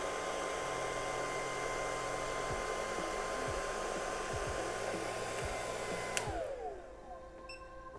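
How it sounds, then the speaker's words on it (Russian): A hair dryer blowing very hot air at 700 watts, powered by an ALLPOWERS R600 portable power station, makes a steady loud whooshing roar with a motor hum that cuts off near the end and fades down. "фен у нас работает на 700 ваттах"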